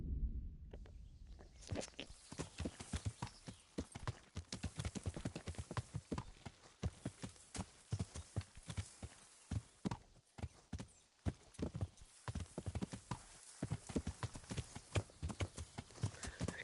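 Horse hooves clip-clopping in a steady walking rhythm in the medieval video game Kingdom Come: Deliverance, close and continuous for the whole stretch with no talking.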